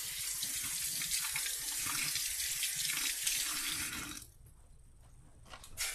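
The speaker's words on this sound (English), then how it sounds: "I'm just going to rinse them off before I put them in there." Tap water runs steadily into a sink as bean sprouts are rinsed beneath it, a bright continuous splashing for about four seconds before the flow cuts off, leaving a quieter stretch with faint kitchen handling noise.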